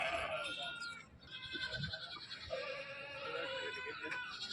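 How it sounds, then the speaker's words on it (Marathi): Kathiawadi goats bleat at a busy goat market in Talegaon Dhamdhere, with wavering cries rising over a steady crowd murmur as people talk nearby. "काठेवाडी शेळ्या आहे."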